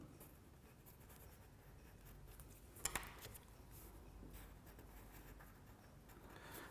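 A pencil sketches a simple leaf on white paper in quiet, soft scratchy strokes with a couple of brief sharper taps, close and faint.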